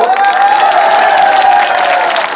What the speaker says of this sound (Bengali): আমরা করতালি দেব